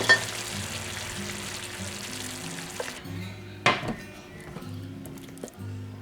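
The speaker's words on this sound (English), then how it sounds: "I just want to sear it a little bit." Beef sears in a hot pan for a slow cooker autumn stew, a broad sizzle filling the first three seconds, then dropping away to quieter hiss with a sharp clatter and a few soft knocks.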